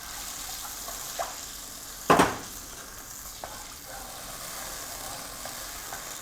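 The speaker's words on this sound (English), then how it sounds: "And then I'm going to add some water." Water poured into a hot pan of beans, a short loud burst of hissing sizzle that fades back to a quieter steady frying crackle with a few light clinks of stirring.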